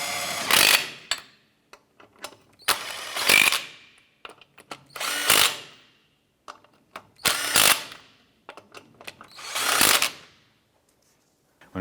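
A power tool snugs down lug nuts on a 1994-2004 Chevy S10 wheel in five loud, close bursts, each rising and then cutting off, separated by short quiet gaps.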